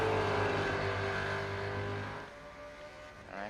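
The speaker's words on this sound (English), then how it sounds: "Seeing these two V8 supercars in line astern." Two V8 supercars race nose to tail at Le Mans in the iRacing sim, their engines a loud, steady drone that eases off and fades slightly toward the end, with no talk.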